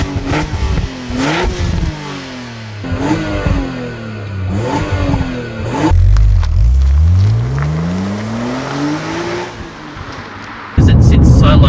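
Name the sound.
BMW Z4 M E86 car driving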